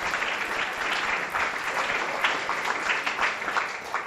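An audience applauds at a debate, a steady close patter of many hands clapping throughout the few seconds, fairly quiet with no talk over it.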